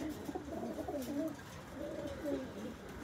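A pet pigeon coos softly nearby in a couple of low, rolling phrases against faint background noise.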